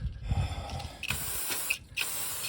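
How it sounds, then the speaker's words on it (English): Brake cleaner sprayed onto a Sunbeam Alpine front brake in a few sharp hissing bursts, close and loud, separated by brief pauses. "My favourite stuff, brake cleaner. Give that a good"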